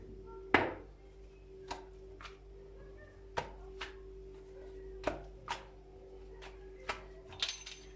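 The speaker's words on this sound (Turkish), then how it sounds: "Şu şekilde ruletle şeritler halinde e, kesiyoruz." Pastry wheel cutting buttery katmer dough into strips on a board, a handful of sharp, separate taps and rolls spaced irregularly, close and fairly quiet with no talking.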